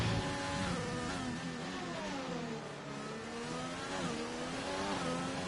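An F1 car accelerates around Zandvoort in a sim racing game, with a steady high engine whine rising and falling in pitch through the gears, continuous and fairly close.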